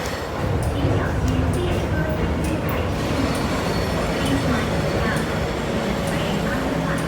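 A C-stock train runs at Kwun Tong station on Hong Kong's metro, a steady rumble and rolling hum throughout with faint high squeals, recorded close on the platform.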